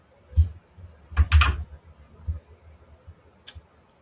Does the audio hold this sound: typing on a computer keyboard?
yes